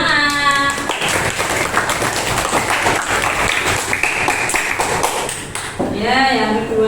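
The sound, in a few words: people clapping hands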